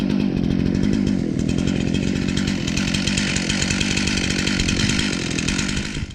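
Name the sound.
chainsaw cutting wood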